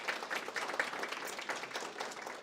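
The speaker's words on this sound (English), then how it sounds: "So if we can give them a big round of applause." Parents at an evening school district parent academy session applaud the presenters, a short, even round of clapping from a modest indoor audience, fairly soft and close.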